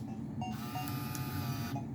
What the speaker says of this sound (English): I'm going to turn the printer on, and it lets us know that it's working.